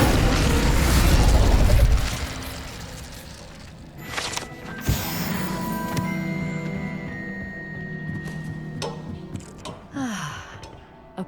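A fire spell cast in Hogwarts Legacy: a loud whooshing burst at the start, then a sharp flare of crackling flame, followed by a lingering magical shimmer and some softer clanks and scrapes.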